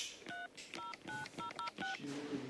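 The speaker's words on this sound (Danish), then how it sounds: "Ring til Julie" A telephone number is keyed in as a quick series of about seven distinct dial tones, each a short beep separated by brief gaps, fairly close and clear, followed by a faint ringing tone at the end.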